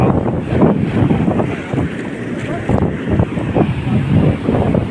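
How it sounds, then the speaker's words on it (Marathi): Sea waves surge and crash on a village shore, a loud, churning wash of water and wind noise with a voice calling out excitedly over it. "समुद्रात काय जोर दिला बघा, उसळला निसतो"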